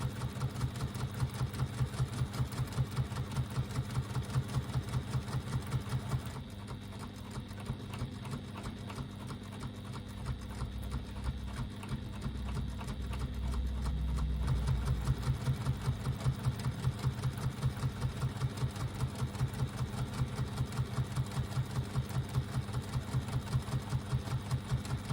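A sewing machine runs steadily for the whole stretch, stitching a quarter-inch line along a fabric strap, with a fast, even mechanical chatter of close needle strokes that swells slightly in loudness midway.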